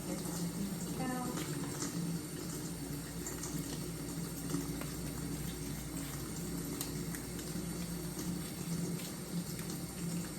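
Water runs steadily from a tap, rinsing the feet during a men's pedicure in a salon, a constant close splashing hiss that carries on unbroken from start to end.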